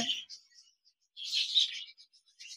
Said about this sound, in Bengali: লুটিনো রেড আই বাজরিকার পাখি রয়েছে।